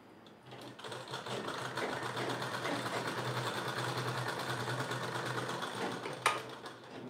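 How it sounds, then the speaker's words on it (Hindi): A sewing machine running continuously while stitching a blouse, a fast, steady mechanical whirr and rattle that is fairly close and even in level, with a brief louder clack near the end. "इसमें आपको बिल्कुल भी परेशानी नहीं आनी चाहिए सिलाई मशीन को चलाते वक्त"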